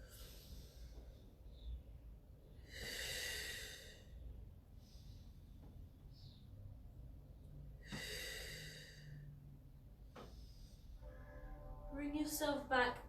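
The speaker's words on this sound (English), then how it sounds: "deep breaths" Slow, deep breaths drawn in and let out during a Pilates stretching session, soft and close, spaced several seconds apart over a quiet room.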